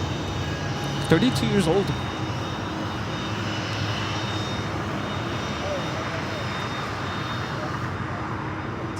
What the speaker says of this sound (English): So Falcon 900 coming in from Los Cabos.